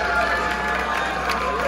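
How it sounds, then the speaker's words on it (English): An audience aboard the Norwegian Escape cruise ship cheers and applauds during a Deal or No Deal game show, a loud continuous crowd roar with clapping and shouts. "give David a big round of applause"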